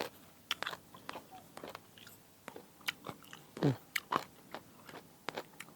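Someone takes repeated bites into a crunchy mango, each giving a sharp, close crack followed by chewing crunches at an uneven pace, quiet overall with no talk.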